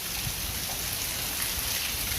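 Steady, heavy rain pours down continuously, a dense hiss of drops with no pauses.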